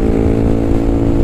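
KTM Duke 390 motorcycle cruising on a motorway in sixth gear at high revs, a steady droning engine hum with wind rush, loud and continuous throughout.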